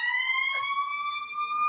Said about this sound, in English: Obviously, somebody had some problems out there, though, while the ambulance went by.